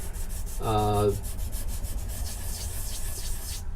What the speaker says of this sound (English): not a lot of pressure, circular motion with the sandpaper, not a lot of pressure